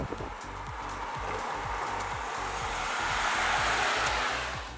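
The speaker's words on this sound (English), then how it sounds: "the engine does get noisier, but where the old one sounded buzzy, this one sounds busy" A car engine revving steadily at higher speed, a busy mechanical drone with rapid pulsing, loud and close throughout.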